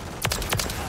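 Firecracker explosive going off in Call of Duty Modern Warfare 3 Zombies, two sharp, loud blasts about a quarter second apart over a steady background of game noise.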